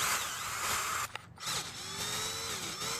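A power tool backs screws out of the cover on a Troy Bilt edger, running in a loud whining burst, pausing for about a second, then whirring again with rising and falling pitch.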